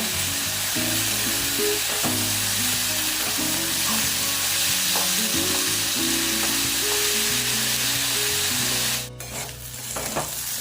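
Potatoes sizzle and crackle loudly in a frying pan, with occasional stirring scrapes, before the sizzle drops away near the end.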